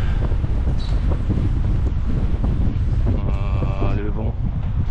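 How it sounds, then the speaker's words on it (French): A hot south wind blows hard over Béni Amer, buffeting the microphone with a steady low roar, while a car passes and traffic murmurs in the background. "Le vent, ça souffle."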